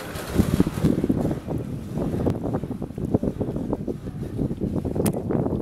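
A motorboat running out on the sea off Buenaventura, Colombia, with choppy hull thumps and water slaps under heavy, gusting wind buffeting the microphone.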